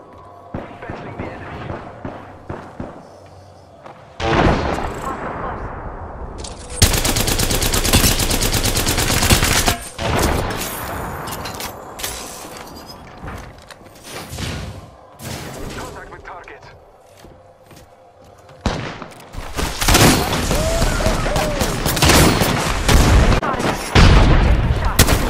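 Gunfire in Apex Legends: loud automatic bursts and single cracks come in several waves between quieter gaps, mixed with game voice lines.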